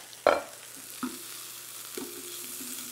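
A sliver of butter dropped into a hot pan beside a halved croissant gives a quick sharp hiss, followed by a couple of softer taps and a faint continuous sizzle.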